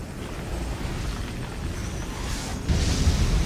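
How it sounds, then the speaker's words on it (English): An ion cannon strike in the Command & Conquer 3: Tiberium Wars video game explodes with a dense, rumbling roar that swells into a louder booming burst near the end. "Ion cannon activated."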